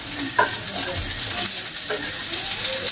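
Ginger sizzling as it sautés in a hot pan for a home-cooked family dish, a steady frying hiss with light stirring clatter running through the whole stretch, no talk.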